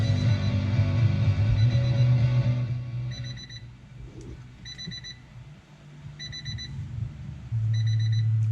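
Repeated electronic beeps in short evenly spaced bursts over a low mechanical hum, fairly faint against the background drone, in a Honda CRX Si during a Kenwood KSC-SW11 subwoofer install.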